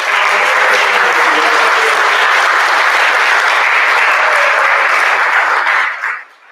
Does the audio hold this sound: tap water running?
no